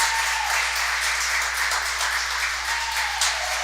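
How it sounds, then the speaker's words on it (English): Crowd at a youth swim team intrasquad meet cheers and claps steadily in an indoor pool, a constant wash of applause with whistles and shouts rising over it. "You hear the crowd going crazy for Morgan"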